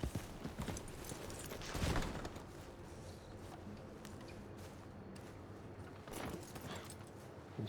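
Hooves clop in a steady trotting rhythm in the video game Red Dead Redemption 2, fairly faint, with a few louder thumps and no talking.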